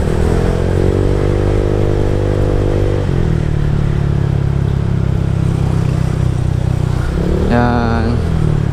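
A Honda Click V2 scooter fitted with a JVT exhaust pipe revs close and loud, its engine note climbing and dropping in pitch through several throttle changes. A voice can be heard briefly near the end.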